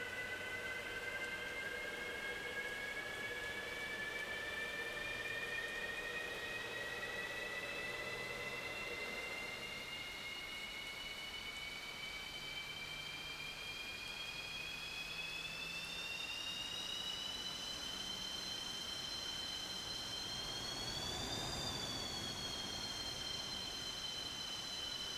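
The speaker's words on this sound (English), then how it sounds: "Okay, engine number 1 has started." An aircraft engine in the DCS World flight simulator spools up as a continuous whine that slowly climbs in pitch, with a faint low hum beneath it and no speech.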